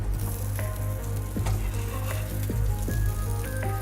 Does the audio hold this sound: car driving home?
no